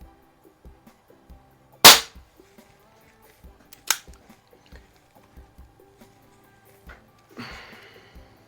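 A repaired Smith & Wesson 79G air pistol with a resealed valve fires two sharp, loud pops about two seconds apart, with faint mechanical ticks between them and a brief rustle near the end.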